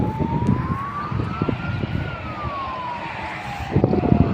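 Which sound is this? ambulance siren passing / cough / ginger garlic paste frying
ambulance siren passing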